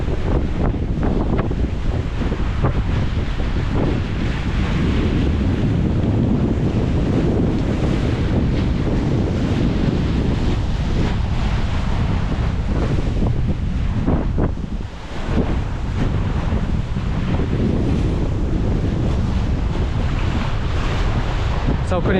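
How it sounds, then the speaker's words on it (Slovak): Strong wind roars across the microphone by the sea at the shore of Ko Sichang island near a boat landing. It stays loud and constant throughout, with surf washing underneath, and there is only a brief dip near the middle. "tu už brutálne fúka"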